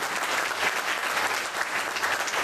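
Sustained audience applause at a Marathi poetry recital, dense steady clapping from a crowd filling the whole stretch at an even level.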